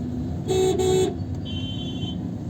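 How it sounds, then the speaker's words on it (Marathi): Car horns blare in two long toots followed by a thinner higher honk, rising over steady engine rumble and road noise from heavy traffic on a four-lane road between Chandani Chowk and Navale Bridge. "बघा खूपच ट्रॅफिक आहे"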